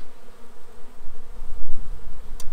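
Honeybees buzzing in an opened hive during inspection, a dense close drone of many bees that swells and dips steadily throughout.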